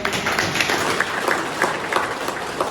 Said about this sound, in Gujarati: એકવાર ભૂપતભાઈ માટે જોરદાર તાળી દીધી